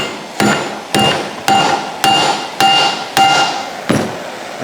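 Eight sharp hammer blows ring out on heated metal of a crushed push broom under repair, at an even, steady pace, each with a bright metallic ping, close and with no voices.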